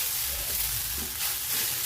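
Rice frying and being stirred in a pan over low heat while making coconut rice, giving a steady close sizzle with soft scraping stir strokes throughout, no voices.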